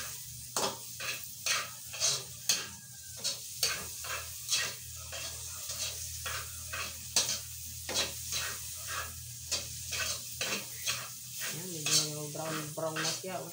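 Pieces of pork fat fry in a pan in their own rendered grease, crackling steadily while repeated stirring scrapes break in at an even rhythm. A brief voice comes in near the end.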